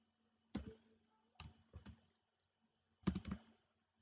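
Typing on a computer keyboard: three short bursts of clicky keystrokes separated by pauses, close and fairly quiet, with no talking.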